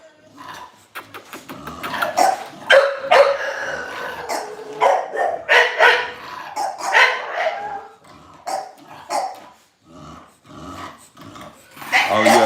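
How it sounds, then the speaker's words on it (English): American bully dogs bark and growl in the background, intermittent barks of varying loudness mixed with someone talking over them up close. "you don't hear these dogs in the background?"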